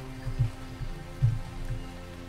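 Acid rain in the video game Starbound falls as a soft, steady patter, with a few low thumps rising briefly above the rainfall and no talking.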